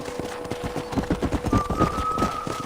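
Rapid rhythmic hoofbeats of a galloping horse in Red Dead Redemption, steady and moderately loud, over a faint continuous tone in the background.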